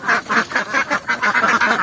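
Ducks kept alongside free-range village chickens on a traditional farm quack in a rapid repeating series, about a dozen loud, close calls in under two seconds.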